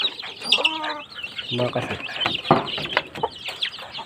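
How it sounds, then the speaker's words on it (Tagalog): Farm poultry, ducks, call out in a yard, a run of close quacking and clucking bursts with chirpy bird calls around them, and a person briefly speaks over the birds. "Yung mga pato tayo, itik."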